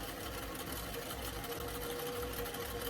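A sewing machine runs steadily, stitching the seams of a fabric doll dress form, a continuous close, even mechanical whir that never pauses.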